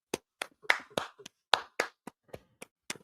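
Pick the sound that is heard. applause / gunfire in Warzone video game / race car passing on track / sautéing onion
applause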